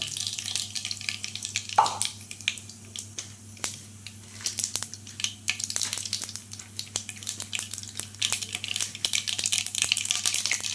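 Mustard and cumin seeds fry in hot oil as the base for an onion curry, giving a close sizzle with sharp crackling pops that start sparse and grow denser and more rapid.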